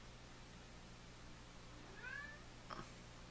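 A single cat gives one rising, drawn-out meow followed by a short chirp, faint against a quiet indoor hum.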